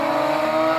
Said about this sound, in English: Oh, better launch from the GT4 RS that time.